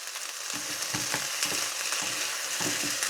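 Chopped vegetables for ratatouille fry over moderate heat in a pan, a soft steady sizzle punctuated by repeated scraping taps as they are pushed around, close and fairly quiet.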